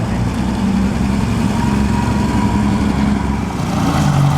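A classic BMW car engine runs at the 2008 Mille Miglia road race, a steady, close, low-pitched drone with an uneven, slightly lumpy tone that holds throughout.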